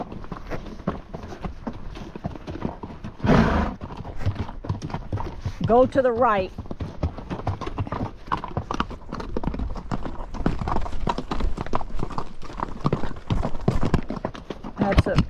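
Horses walk along a desert trail, their hooves clip-clopping in a steady close rhythm while riders talk throughout; a short whinny rises briefly in the middle.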